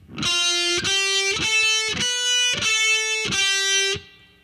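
Six sustained notes of heavily distorted electric guitar with rich overtones, each attack sharply picked, played alone and fading out at the end.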